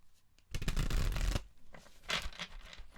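Tarot cards are shuffled by hand at close range, a dense riffling burst followed by a softer, scratchier second pass; no voices.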